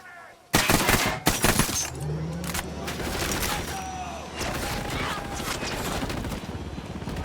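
Gunfire in the video game Ghost Recon Wildlands: a couple of loud shots crack out near the start, followed by a sustained, dense barrage of distant shooting and rumbling battle noise.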